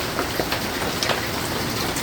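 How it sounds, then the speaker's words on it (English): Hail and heavy rain pour down during a storm in southern Illinois, a dense, constant hiss of pelting with scattered sharper impacts, steady and close with no voices. "We got some hail."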